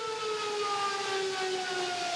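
A civil defense siren on the Velino river warns of rising water, one steady wailing tone slowly falling in pitch. It sounds distant but fills the air evenly, with no voices over it.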